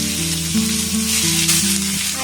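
Chopped onion frying in hot oil with toasted whole cumin seeds, a steady close sizzle with a faint hum underneath, continuous and alone with no voices.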